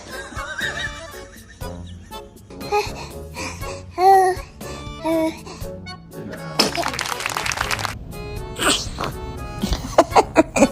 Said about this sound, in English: Were you about to sneeze?